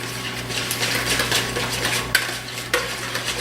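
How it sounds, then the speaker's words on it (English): Gluten-free ingredients whisked together in a bowl, a busy run of close clinking and scraping of utensil against the bowl with two sharper knocks near the end. "we are going to whisk it up and get all the ingredients nice and mixed together"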